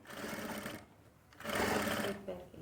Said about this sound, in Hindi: और इसके ऊपर आपको लगानी है एक सिलाई।